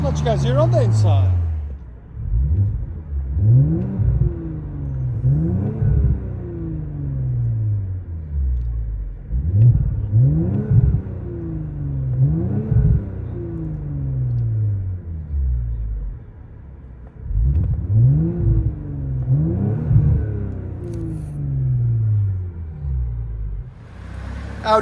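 Heard from inside the cabin, a 2018 Audi S5 3.0L turbo V6 with resonator delete rumbles through a series of rev blips and settling drops, muffled and deep, while a person talks throughout.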